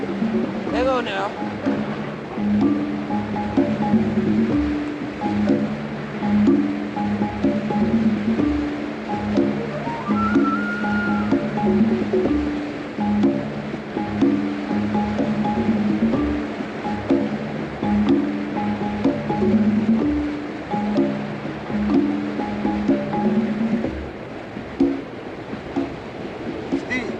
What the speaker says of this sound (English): White water, Pete. Hang on now.